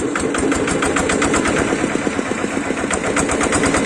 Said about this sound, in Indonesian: Ini mesinnya baru saja mau dihidupkan guys.